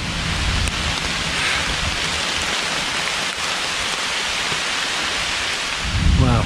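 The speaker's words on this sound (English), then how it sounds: "the rain's freezing" Steady, dense cold rainfall pouring down close by on a mountain hiking trail, a constant wash of hiss with a low rumble underneath, ending in a brief gust.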